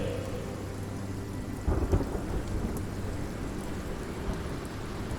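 A storytelling sound effect of a thunderstorm: steady heavy rain hisses throughout, and a deep rumble of thunder breaks in near the middle before fading back under the downpour.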